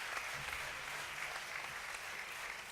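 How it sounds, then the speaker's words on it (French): Faint, distant applause from an audience at a French youth competition finale, a steady wash of clapping with no voices standing out. "Vous pouvez tous les applaudir."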